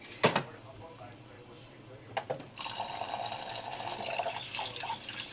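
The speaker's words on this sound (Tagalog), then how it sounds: "lagyan natin ng tubig" Tap water runs steadily into a cooking pot for a sinigang-style dish with shrimp paste, preceded by a few clinks and knocks, the pouring loud and continuous through the second half.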